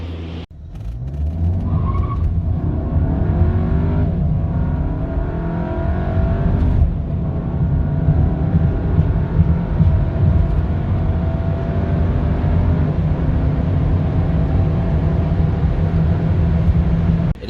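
A 2020 Volkswagen Passat accelerates hard, with a steady, loud engine drone that rises in pitch through the run, continuous and close, with road and wind noise underneath and no talking.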